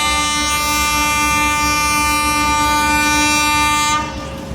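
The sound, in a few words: Narayanganj commuter train passing a level crossing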